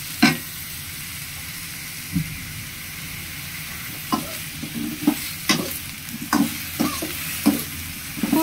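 Eggplant pieces frying in a pan for a Bengali begun bhorta, a steady sizzle with scattered louder stirring scrapes and clicks toward the end, close and moderately loud, no voices.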